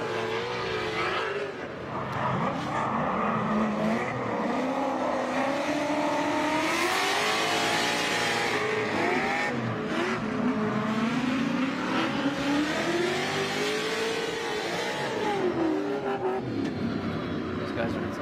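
Drift cars revving hard and sliding at a track event, engines rising and falling continuously with tire squeal, loud and close throughout, with people talking over the noise.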